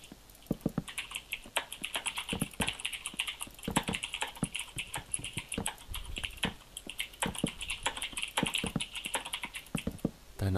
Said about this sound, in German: Das ist eine Razer-Tastatur, die hören sich so an.